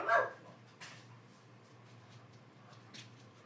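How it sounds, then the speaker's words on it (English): Small dogs yap a few times indoors, a sharp burst at the start followed by scattered fainter yips over a low steady hum. "get the dogs in the bedroom because they won't stop yapping"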